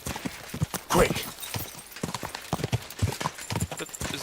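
Horse hooves clip-clop in Kingdom Come: Deliverance II, a quick, uneven run of close hoofbeats alongside light game effects and brief noise bursts.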